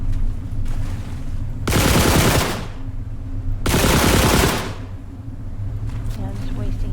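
Two loud bursts of rapid automatic gunfire in the game The Last Caretaker, each lasting about a second, separated by a brief pause over a steady background hum.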